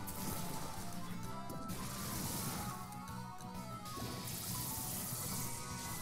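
Bellibolt in a Pokémon video game makes a gloopy, wet sloshing noise, a sustained splashing and bubbling texture that swells and dips over several seconds at moderate level.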